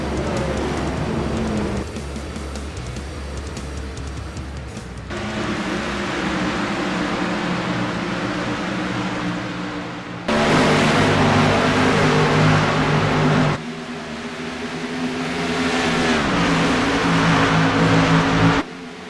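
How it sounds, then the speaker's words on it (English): A pack of race cars pulling away at the start of the Las Vegas 200 in the iRacing sim game, a loud continuous engine roar that jumps in intensity several times, with no voices. "An excellent start to the race as Austin Hakes, Anthony Burrows, and Zach W"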